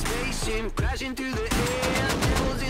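Gunfire in the survival game Rust pops in scattered rapid shots and short bursts, mixed with tonal game sounds and occasional voices underneath.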